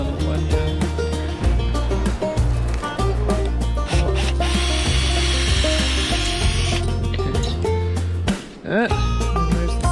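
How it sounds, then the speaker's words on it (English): A hand brace drill bores a small tap hole into a maple tree trunk, giving a continuous close grinding and rubbing of wood with a rhythmic pulse as the bit turns, and a voice briefly speaks. "You have to drill another hole, eh? Just a little one, yeah."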